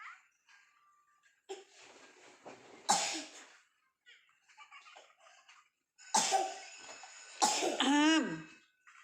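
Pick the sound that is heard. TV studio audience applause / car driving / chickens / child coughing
child coughing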